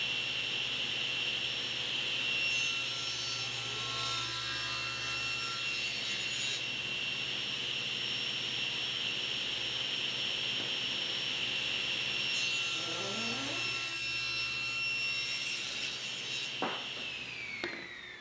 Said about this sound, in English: I'll make 2 passes to resaw the board to a 1/2 inch